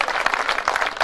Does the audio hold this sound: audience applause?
yes